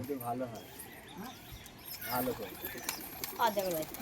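Pigeons coo and briefly flutter nearby while someone tries to catch them by hand, mostly under excited talking that dominates the scene.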